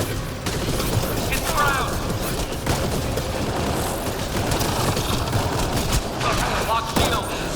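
Heavy gunfire in the shooter game Mass Effect Andromeda, a loud, dense, continuous barrage of shots and impacts lasting throughout, with a character's voice calling out briefly over the fire.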